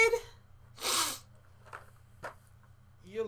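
A single sneeze, a sharp breathy burst of noise at close range in a quiet room, preceded by a brief vocal sound and followed by a couple of small breaths and a faint voice.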